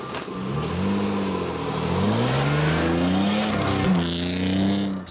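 Race car engine revving hard at a winter drift competition on a snowy track, a loud, sustained, rising and falling roar that stays close and steady throughout.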